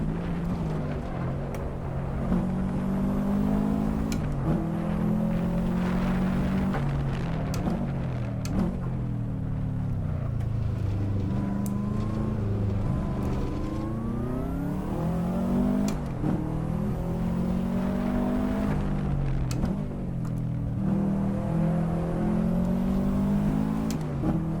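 A tuned Subaru WRX engine in Assetto Corsa climbing Pikes Peak, droning steadily with rising and falling revs through low-speed corners and gear changes, loud and continuous throughout.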